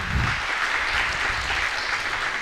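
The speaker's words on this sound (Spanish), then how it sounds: "debemos darle un aplauso a todos" An audience at an international literary conference panel applauds steadily, a dense wash of clapping hands filling the room for the whole stretch without pause.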